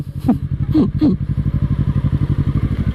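Kawasaki Z900 and Honda CBR650 motorcycles riding together, a steady throbbing engine rumble close by, broken by a few sharp clattering knocks early on.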